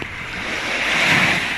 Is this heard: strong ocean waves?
yes